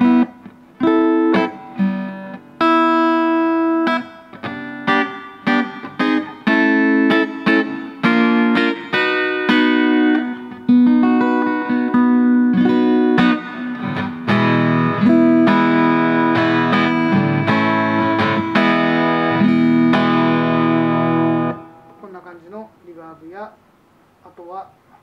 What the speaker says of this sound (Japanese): リバーブですね。